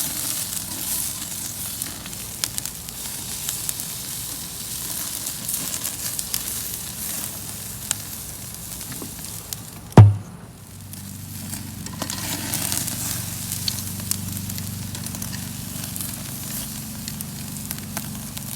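Rare lamb chops sizzle on a hot Big Green Egg grill, a steady close hiss and crackle. Around the midpoint comes a sharp brief clatter and a short dip, then the sizzle swells back fuller.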